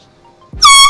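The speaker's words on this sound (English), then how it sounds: "Next, are we doing the air horn?" A sudden, very loud blast of an air horn kicks in after a quiet moment, harsh and sustained, right up close.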